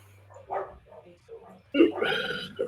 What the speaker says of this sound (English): Jesus, there are some loud dogs outside.